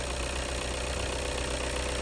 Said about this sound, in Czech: A motor jde fakt hezky, jo.